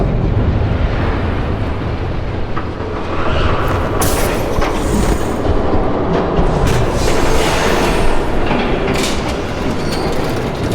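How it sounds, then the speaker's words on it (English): A train rumbles past in a Batman video game, a loud continuous roar of wheels and rail noise with clacking and brief squeals, alone without speech. "There's a train coming."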